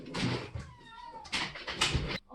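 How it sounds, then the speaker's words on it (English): A kitten meows two or three times close by, the calls rising and falling in pitch, with soft rustling between them and no talking. "Oh, it's a kitty."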